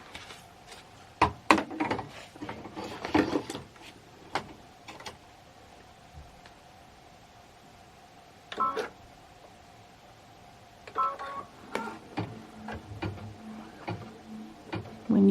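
An embroidery machine sewing a final stitch, giving rapid mechanical ticking and clattering bursts over a steady low motor hum, with short pauses between runs.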